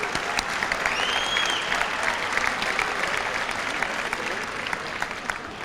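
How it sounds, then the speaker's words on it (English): Audience applause at a 1993 high school senior academic recognition ceremony, steady clapping from a crowd lasting the whole stretch with a faint whistle in the mix. "Let's give them a round of applause"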